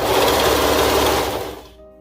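A serger with a cutting knife sews a seam on fabric for a peplum top, running as a loud, fast, continuous mechanical whir up close, then slowing and stopping near the end.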